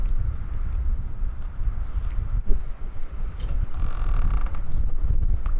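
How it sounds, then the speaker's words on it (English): A mooring spring line on a catamaran creaks and groans in gusty wind, intermittent strained creaks rising over steady low wind rumble on the microphone, no talk. "Got a bit of a creaky line situation though on our spring"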